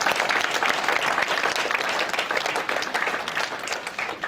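Comedy club audience applauding, a full, loud round of clapping from a crowd that holds steady and tapers slightly toward the end.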